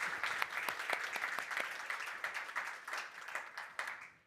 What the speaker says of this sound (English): Can we give a hand of applause to this new council,